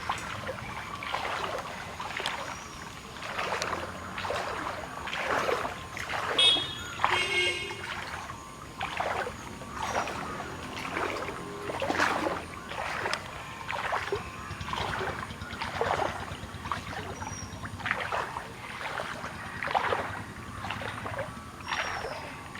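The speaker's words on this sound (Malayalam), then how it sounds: "നമ്മൾ വീണ്ടും വെള്ളത്തിലൂടെ യാത്ര ചെയ്യുകയാണ്" A small boat moves through floodwater from a stream that overflowed around a house in extreme rain, with steady rhythmic paddle splashes and water sloshing at close range, no talk.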